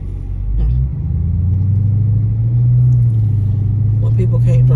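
A car's engine hums loud and close from inside the cabin as it backs up, a steady low rumble that rises slightly in pitch, with a voice talking over it.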